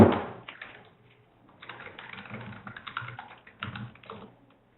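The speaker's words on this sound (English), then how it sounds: "She's typing." Typing on a computer keyboard comes through a call connection as a steady patter of soft keystrokes in short bursts, moderately close, with no talk.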